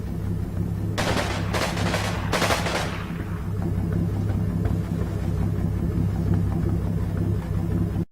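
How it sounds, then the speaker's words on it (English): Gunfire in the WWII video game Combat Mission Final Blitzkrieg comes as three sharp, loud bursts of shots in quick succession, then fades into a low rumbling background. "Still shooting at that Panzerschreck dude and not hitting him."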